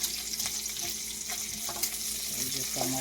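Cabbage, sausage and bacon fry in oil in a pan with a steady, close hiss, broken by a few soft stirring scrapes.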